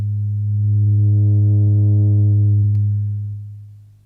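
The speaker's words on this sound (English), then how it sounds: "The low frequency oscillator is running at quite a slow rate." A Roland System 100 synthesizer holds one steady buzzing note while a slow LFO sweeps the filter cutoff, so the tone gradually brightens and then darkens before fading out.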